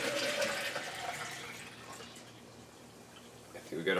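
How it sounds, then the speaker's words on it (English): Citric acid water pours into a blender carafe during juicer cleaning, a splashing liquid stream that is loudest at first, tapers off, then surges briefly again near the end. "I got another blender carafe here to pour out this water into."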